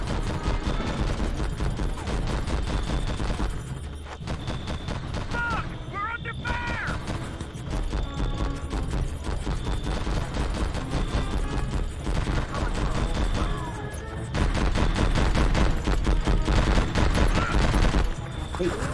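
Dense gunfire from the Vietnam War video game Conflict: Vietnam, with overlapping automatic bursts and volleys packed into a loud, nearly continuous barrage mixed with other game sounds.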